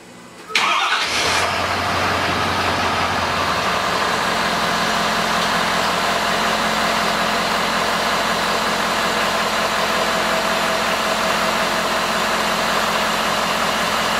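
A truck engine cranks briefly and catches after new batteries are fitted, then settles into a loud, steady idle that runs on alone.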